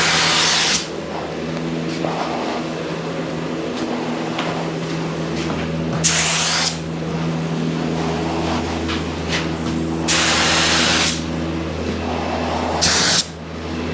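Bursts of spray-gun hiss coat a relatively small car in black paint, several long passes broken by short pauses, over a steady low machine hum nearby.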